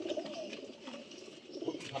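Soft, low coos from Giribaj pigeons repeat over a steady murmur of background noise, nearby and moderately quiet, with no talking.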